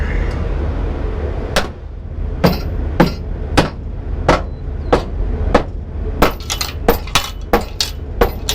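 A hammer drives nails with sharp metallic taps, steady at first, then quickening into a rapid flurry of blows near the end.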